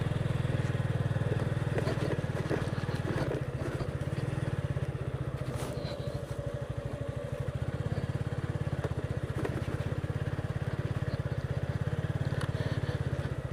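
A motorcycle rides along a village road through Khapan village in the Sylhet countryside of Bangladesh. Its engine drones steadily and close throughout, with a low, continuous hum and faint road noise.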